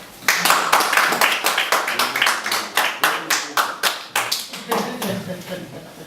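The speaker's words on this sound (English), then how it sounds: "And so applause, please." Audience clapping in a hall, a set of sharp, distinct claps at a rapid, uneven pace that loosens and thins toward the end, with voices faintly underneath.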